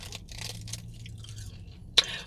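Someone eats a crunchy seaweed snack close to the microphone, with soft, faint crunching and chewing and one sharper crackle near the end.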